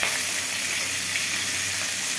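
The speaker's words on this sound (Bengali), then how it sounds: "পেঁয়াজটাকে একটু হালকা করে ভেজে নেবো বন্ধুরা" Chopped onion fries in hot oil with cumin and bay leaf, giving an even, continuous sizzle and hiss at moderate volume with no voices.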